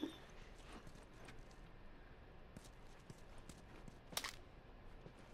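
Horse hooves clip-clop faintly on the ground in The Last of Us, a sparse irregular series of soft thuds under low ambient noise in the abandoned grounds of a university.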